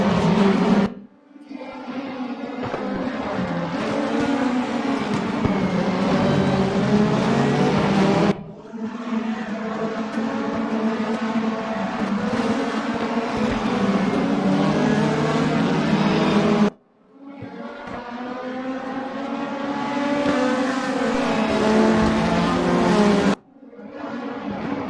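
Race cars in RaceRoom lapping Brands Hatch Indy, a loud continuous engine drone with rising and falling pitch through gear changes, broken by brief gaps between three long runs.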